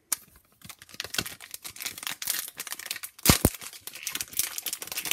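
A foil trading card pack, an AFL footy card pack, gets torn and crinkled open by hand, close-up crackling and ripping in quick uneven bursts, with no talking.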